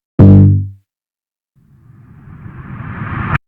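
A deep booming bass note for a K-pop EP section decays quickly, followed after a short gap by a noisy riser that swells steadily louder and brighter before cutting off abruptly.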